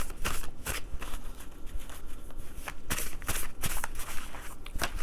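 A deck of message oracle cards is shuffled by hand during a spiritual reading, with repeated crisp riffling bursts in an irregular rhythm, close and moderately loud.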